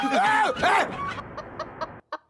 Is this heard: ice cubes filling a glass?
no